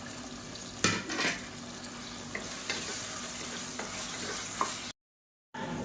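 Chopped tomato is sautéed with ginger garlic paste in a pan for chicken curry, with a steady low sizzle and a few scraping stirs, close by. It drops briefly to silence near the end.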